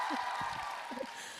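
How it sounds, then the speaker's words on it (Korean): Applause with scattered cheers from the crowd at a K-pop album showcase. The clapping stays fairly faint and steady, with a few voices calling out over it. "박수"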